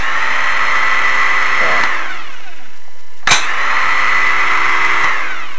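A Frigidaire GrindPro 1/3 HP garbage disposal motor running on a bench test, a loud steady whine that winds down, falls quiet briefly, then starts again with a sharp click and spins back up.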